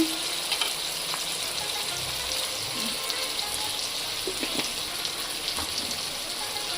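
Gurjali fish pieces and potatoes and other vegetables frying in oil with turmeric powder, a continuous close sizzle with occasional clicks and scrapes of a spoon, fairly quiet and steady.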